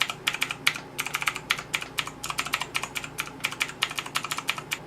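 Someone types on an AZIO MGK 1 RGB mechanical keyboard fitted with clicky Kailh Blue switches, producing a steady run of sharp, crisp clicks in quick irregular bursts. The typing is close and moderately quiet, with no voices.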